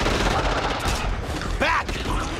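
Gunfire in the zombie shooter Back 4 Blood on Nightmare difficulty in a tunnel level, dense overlapping shots through the short stretch, with a voice calling out partway.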